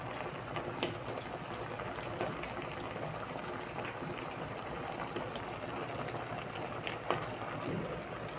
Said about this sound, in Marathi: असं शिजत आहे हे तेल